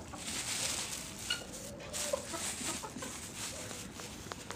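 Chickens cluck intermittently while being fed at a home, soft and fairly close over a steady background hiss, with a few short higher calls scattered through.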